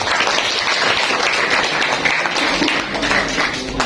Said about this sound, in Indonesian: Kita beri aplaus pada beliau.